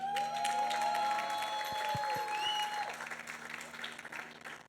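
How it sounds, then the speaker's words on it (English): Audience applause for a children's group performance at a Shivaji Maharaj coronation anniversary event, moderately loud over a sustained musical tone and distant crowd noise, fading toward the end. "Please give them a big round of applause."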